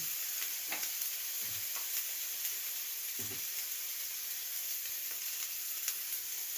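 Chopped tomato with turmeric, chilli powder and salt frying in a pan, a constant sizzling hiss broken by intermittent scraping and knocking as the mixture is stirred.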